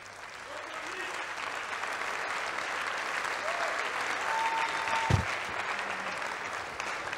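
A bodybuilding contest crowd at the 1997 NABBA Universe Miss Physique overall judging gives a sustained round of applause, steady and moderately loud for several seconds, with a few faint tonal calls over the clapping.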